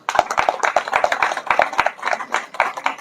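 A crowd of new members at an IKS PI Kera Sakti martial arts brotherhood initiation claps hands in brief, uneven bursts, fairly close, with scattered individual claps standing out.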